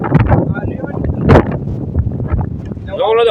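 Strong wind buffets the microphone outdoors near a cave, a loud rumbling roar under continuous talk, with a sharp gust in the middle and another rise at the end.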